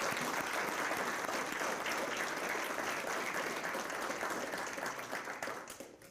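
Dense, steady applause from a business luncheon audience for two speakers, filling the room evenly before tapering off at the end.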